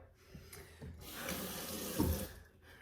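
Tap water runs into a sink to rinse a pair of kids' Nike Court Vision sneakers during cleaning, a faint, steady splashing stream that swells slightly midway, with no talking.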